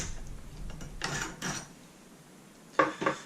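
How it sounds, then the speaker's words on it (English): Metal parts of an SKS rifle click and slide as the receiver cover comes off and the recoil spring is pulled out, a few short close mechanical clacks and scrapes with quiet gaps. "you can then take off the receiver cover and remove the recoil spring"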